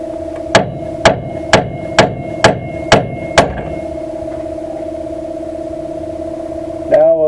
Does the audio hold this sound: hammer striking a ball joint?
yes